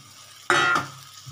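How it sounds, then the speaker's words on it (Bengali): Potato and pointed gourd hit hot spice paste in a pan, a sudden loud sizzling burst lasting about a quarter second before settling to a quieter crackle. "এই দেখো, কষা হতে মশলাটা হচ্ছে আমার, আস্তে আস্তে হোক।"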